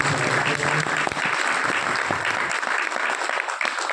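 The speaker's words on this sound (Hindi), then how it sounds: "आदरणीय शेर सिंह जी, उनका स्वागत है, जोरदार तालियों।" A crowd applauds loudly and continuously, a dense wash of clapping that holds steady throughout.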